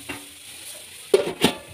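Spices frying in a pan for dal, a low soft sizzle with a few louder stirring scrapes near the end.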